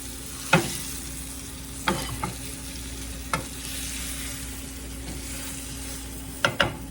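An oven roast browns in hot oil in a pan, giving a steady sizzle with a few sharp clacks and scrapes of a utensil moving it about.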